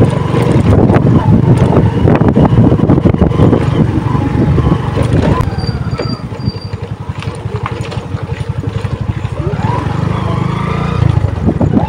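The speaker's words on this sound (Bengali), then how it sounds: "আর আমাদের যে গাড়িটা আছে, গাড়িটা পেছনে আসছে।" A car engine drones and rumbles while driving slowly along a rough off-road forest track, with wind buffeting the microphone and bumps and rattles throughout; no speech.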